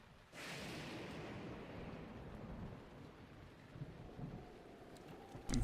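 Stormy weather in the video game Zelda Breath of the Wild: a steady wash of heavy rain and low rumble rises suddenly and holds at an even level throughout, with a louder swell near the end.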